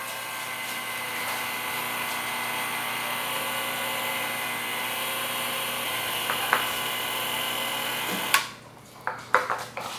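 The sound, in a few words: electric mixer mixing peanut butter carrot dog cake batter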